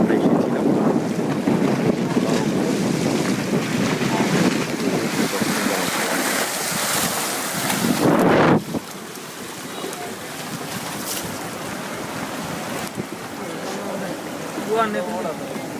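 Speedboat on a river between Dashmina Hajirhat in Patuakhali and Ghoshethat in Char Fasson, Bhola: a loud, steady engine roar mixed with rushing wind and water noise, easing slightly about halfway through, with faint voices underneath.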